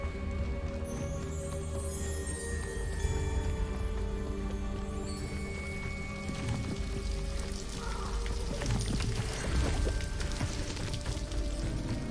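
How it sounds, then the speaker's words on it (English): A rushing waterfall in a fantasy video game, heard as steady, broadband water roar and splashing that holds evenly throughout without any talk. "The waterfall."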